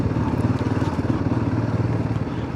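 A motorcycle rides along a road between Champhai and Zokhawthar in Mizoram, near the India–Myanmar border; its engine gives a steady, low, pulsing chug, close and continuous for the short stretch, without speech.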